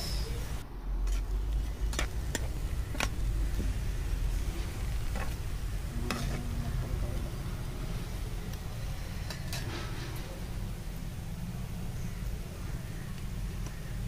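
Chukka kura leaves frying in oil in a pan, a soft continuous sizzle under faint background hum, with scattered sharp clinks of a utensil against the pan.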